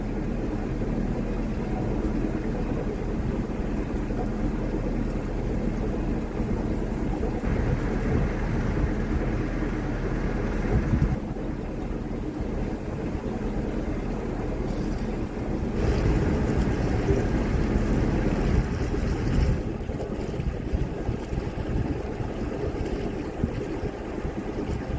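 A boat cruises steadily along a river lined with double-decker houseboats, its continuous engine drone blending with wind noise and water wash for the whole stretch, with a brief dip and a rougher surge midway.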